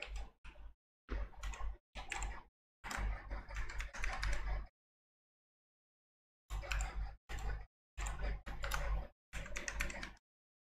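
Password being typed on a computer keyboard: several bursts of quick, close key clicks separated by short pauses, with a longer silent gap in the middle and no talking.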